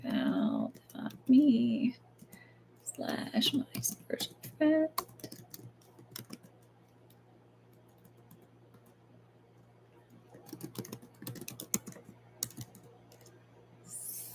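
Quick bursts of clicking on a computer keyboard come in several clusters, separated by quiet gaps, with a low steady hum beneath and a voice talking intermittently.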